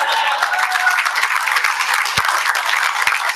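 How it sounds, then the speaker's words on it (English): An audience at a cultural show applauds in steady, dense clapping that fills the room at even loudness, with a couple of louder thumps near the end. "Can you please give them another round of applause?"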